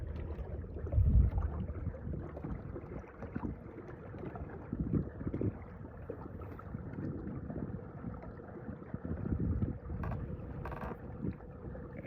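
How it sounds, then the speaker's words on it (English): Low rumbling of a boat moving through water, with steady wind buffeting the microphone and occasional splashes, no voices. "We're just gonna move the boat around."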